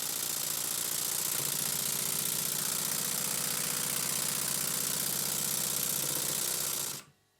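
A Stuart 7A model steam engine runs notched up with its reversing lever eased toward neutral, a steady close hissing chuff with a fast even beat for about seven seconds, then stopping abruptly.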